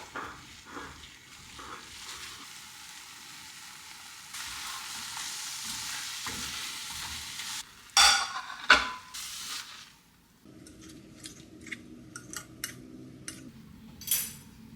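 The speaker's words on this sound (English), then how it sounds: "Add some salt and pepper, of course, and we scramble." Eggs seasoned with salt and pepper are scrambled in a frying pan: soft sizzling and frying noise with intermittent scraping and clinking of a utensil against the pan, a few sharper knocks, and a quieter stretch near the end.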